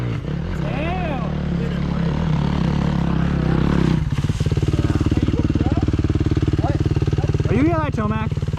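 Dirt bikes ride down a rocky creek through the woods, their engines buzzing and revving close by with a steady throbbing idle after a shift, while riders talk over the motor noise.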